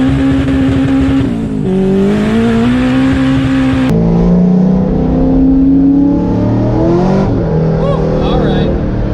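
A supercharged Corvette C5 Z06 roars and revs hard on a frontage road while spinning its tires, a loud, close engine howl rising and falling in pitch, heard from inside the car with people talking over it.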